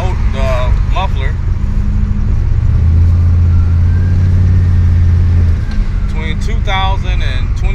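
An LSX turbo car fitted with a Hooker Aerochamber muffler cruises down a street, its engine a loud steady low drone from inside the cabin, with someone talking over it at the start and end.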